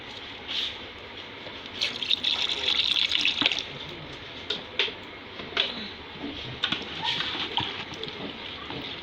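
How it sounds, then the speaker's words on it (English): Water trickles and splashes into a bowl of hand sanitizer mixture with soft sloshing and clinks, fairly quiet and close, with intermittent stirring sounds. "Then I add my little water."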